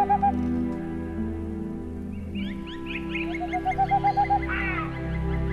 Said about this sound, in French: un chant se fait entendre. C'est celui qui annonce la présence du grand tétras.